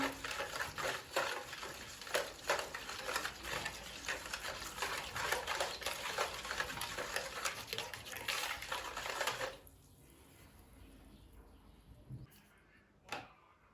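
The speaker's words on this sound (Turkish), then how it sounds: "Güzelce bir karıştıralım bunu." Stirring of sugar and yeast in a bowl for soft poğaça dough, a steady scraping, swishing rhythm close up for several seconds before it stops, followed by a few faint clinks.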